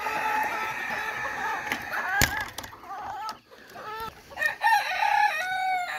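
A backyard flock of chickens clucks steadily while a rooster lets out loud, rising crows, punctuated by sharp clattering knocks, all fairly close and continuous.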